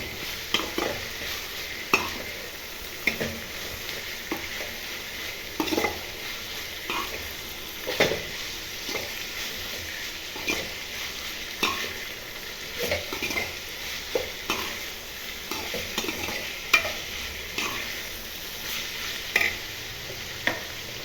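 Broad beans (chikkudukaya) frying in oil in a pan, a soft continuous sizzle broken by repeated scraping stirs of a spatula at an irregular rhythm.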